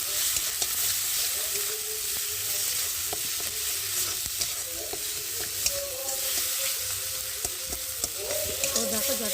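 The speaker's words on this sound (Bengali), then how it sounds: "লঙ্কার গুঁড়ো দিয়ে মশলাটা ভালো করে কষিয়ে নেব" Masala with salt, turmeric and chili powder fries and sizzles in oil while being stirred, a steady close hiss with scraping stirs throughout and no talking.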